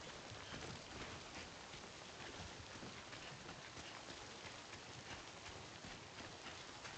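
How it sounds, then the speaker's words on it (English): Steady rain falls in the video game Death Stranding, a dense even hiss of drops on surfaces that holds at a constant level with no talking. "but it's just raining for now"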